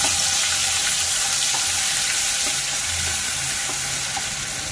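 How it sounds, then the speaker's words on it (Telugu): Steady, loud sizzling of green chilies frying in hot oil, continuous crackle close up with no voices. "ఆయిల్ వేడెక్కిందండి. పచ్చిమిర్చి వేసుకుంటున్నాను."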